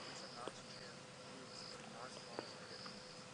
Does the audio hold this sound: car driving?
no